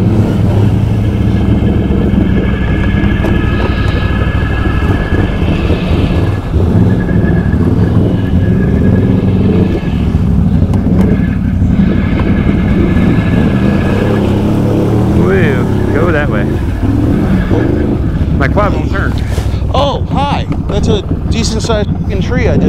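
A Can-Am Outlander 650 or 850 XMR ATV engine drones steadily and loudly while easing through a wooded trail section at Tall Pines ATV Park, with wind buffeting and someone talking over it.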